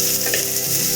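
Chopped garlic frying in a pan for mushroom soup, a steady close sizzle with faint stirring textures running through the whole second, no voices.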